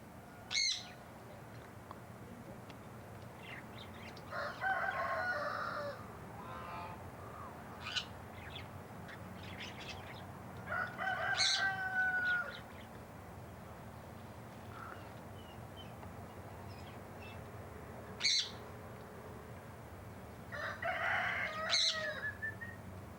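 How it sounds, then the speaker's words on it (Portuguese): Several short bird calls ring out at intervals, fairly near, against a steady low background hum with no talking. "Larga esse pássaro."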